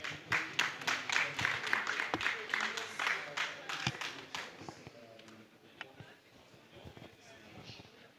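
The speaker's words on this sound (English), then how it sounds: "a round of applause for them" Audience applause in a talent hall event, sustained clapping that thins out over several seconds into sparse individual claps, with faint talk underneath.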